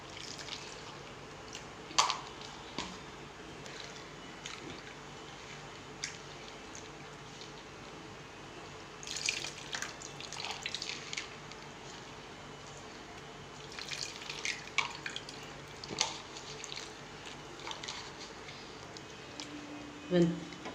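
Tamarind soaked and dissolved in water is poured into a pot for rasam, then tomatoes are squeezed and mashed by hand in a home kitchen; soft splashes, drips and squelches come in scattered bursts over a steady low background.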